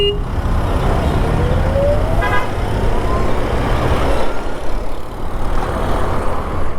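Road traffic surrounds a passing Ather 450 electric scooter, with a steady engine drone, a short horn toot and other motors humming nearby.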